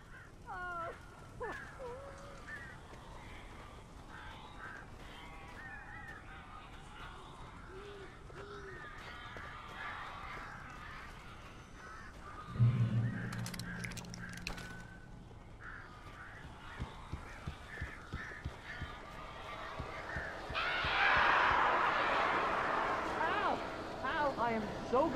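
Crows cawing in Alan Wake, inside a cabin where birds got in before the chimney was blocked; harsh caws recur over steady game ambience, with voices at times and a louder burst of noise toward the end.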